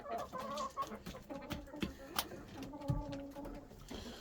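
Chickens and roosters clucking inside a coop in snowy weather, with soft scattered clucks and short calls close by, mixed with bumps and shuffling and a voice talking faintly underneath.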